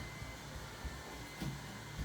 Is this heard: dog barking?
no